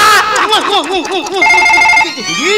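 A telephone rings with a loud, trilling electronic bell tone that repeats in warbling bursts, up close and alone without speech.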